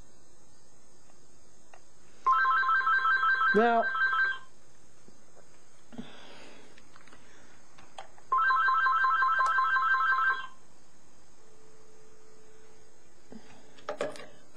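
A telephone rings in two long electronic bursts separated by a pause, fairly loud and clear, with a brief spoken word between them.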